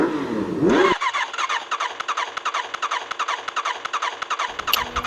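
An old, worn-out motorcycle engine in the Sakura School Simulator game cranks over briefly, then settles into a loud, uneven, sputtering putter with rapid irregular pulses that continues steadily throughout.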